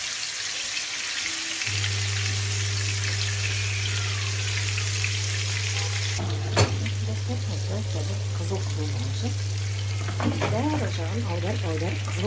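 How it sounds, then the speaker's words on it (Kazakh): Flour-coated meatballs of minced meat and rice frying in a skillet, giving a loud, steady sizzle under a constant low hum, with a voice talking over it in the second half. "аударып қызыл болғанша қуырып аламыз"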